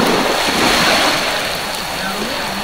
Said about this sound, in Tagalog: Napakapayapa ng dagat.